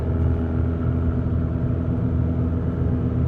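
A car engine blipped during a rev-matched heel-toe downshift, heard up close inside the cabin as a loud, steady low rumble with a slight swell in revs.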